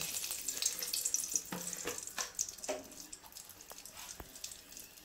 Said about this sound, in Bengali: কড়াইয়ের মধ্যে তেল দিয়ে দিলাম। এখন 2টো শুকনো লঙ্কা দিয়ে দিব